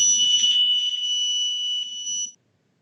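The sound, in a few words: alarm going off in a store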